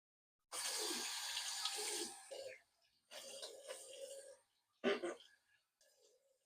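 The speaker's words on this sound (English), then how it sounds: "I guess I could show you washing off my face" Tap water runs in broad bursts into a sink as someone washes their face, with two long splashing stretches, a sharp splash near the end and faint trickles between.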